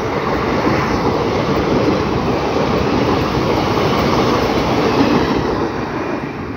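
Twin Indian Railways WDP4D diesel locomotives lead the Bareilly City–Lalkuan passenger train, a loud, continuous near rumble of engines and rolling wheels on rails that holds steady before easing slightly at the end.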